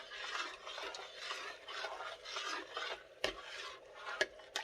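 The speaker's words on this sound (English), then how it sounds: "Let's give it a stir." A spatula stirs a large pot of smoky vegetable stew, scraping steadily with a continuous rasping, sloshing texture and a couple of sharper knocks against the pot near the end, close and alone.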